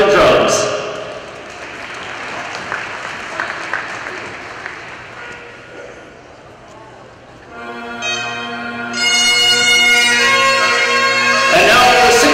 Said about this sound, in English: A big round of applause again for the Edmonton Police Service Pipe and Drums.